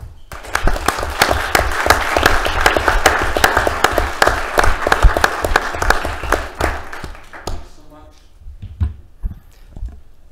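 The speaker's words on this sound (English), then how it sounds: "So just one more hand of applause for Frank." A meeting audience in Carbon County, Utah gives a round of applause, crisp close claps building and holding for several seconds before thinning into scattered claps and then quiet room noise.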